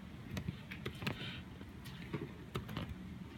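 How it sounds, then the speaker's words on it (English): Quick irregular clicks of keyboard typing, soft and close, scattered in short bursts with no talking. "I'm typing it up here so everybody can look."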